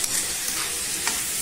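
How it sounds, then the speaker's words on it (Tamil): Onions salted and sautéing in a pan give a close, steady sizzling hiss with a faint stirring scrape or two. "வெங்காயம் வதங்கிடுச்சு இந்த அளவுக்கு வெங்காயம் வதங்கினா போதும்"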